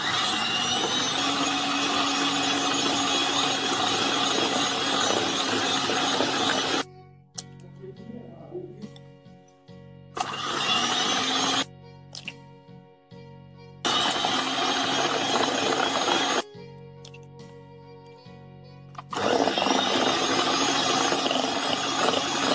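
A hand mixer beating eggs into fruit-cake batter, loud steady whirring that stops and starts again in several long runs, with quiet gaps between them and no talk.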